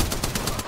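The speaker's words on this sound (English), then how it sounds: "Getting shot at." Rapid automatic gunfire in Apex Legends comes in a loud, close burst of about six quick, evenly spaced shots and then cuts off abruptly.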